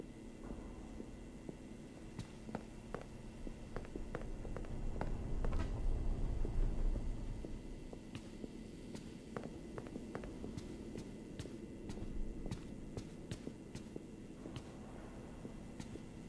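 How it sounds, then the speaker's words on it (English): Faint footsteps patter in a steady sequence of light taps inside the Five Nights at Freddy's Security Breach video game, set over a low droning hum that swells briefly in the middle. "I hear footsteps!"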